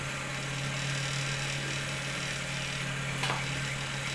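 Jumbo cast-aluminium cotton candy machine running, a steady close mechanical hum with a strong low tonal drone and constant whirring, plus a brief faint clink near the end.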